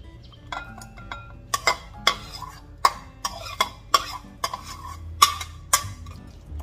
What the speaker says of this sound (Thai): คลุกให้เข้ากันค่ะ